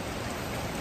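Heavy rain falls during the rainy season in Taiwan, a dense, steady roar of hiss with no other sounds.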